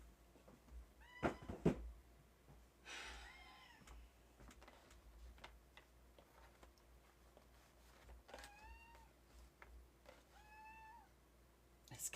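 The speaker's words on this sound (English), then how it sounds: "This cat's gonna drive me nuts." A pet cat named Sonny meows indoors several times, each call rising and falling, with quiet gaps between them and a couple of soft thumps near the start.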